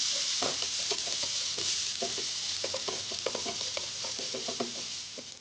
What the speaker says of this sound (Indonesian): Kemudian akan saya tumis bawang bombay. Ini saya tumis sampai layu.